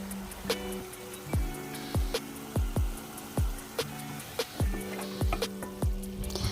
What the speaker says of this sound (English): This ground pork has to stir fried till very crispy, dry, and fragrant.